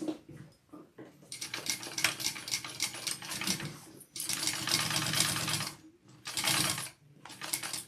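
A sewing machine runs slowly up the sides of a Sidekick bag in bursts, close and loud, its stitching rattle starting and stopping with short pauses between runs.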